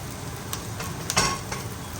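Carrots tipped into onions already frying in a pan for a Chinese-style dish, giving a steady close sizzle with a few brief stirring scrapes and a short louder clatter midway, no one talking.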